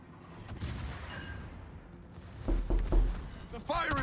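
Naval guns firing on the ship Satsuma in World of Warships, a few sharp low booms clustered near the end over a quiet rumbling background.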